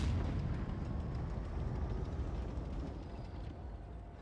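A heavy tank cannon blast in World of Tanks Blitz, from a Chieftain MK6, with a deep rumbling boom and a long broadband roar that sustains and slowly fades.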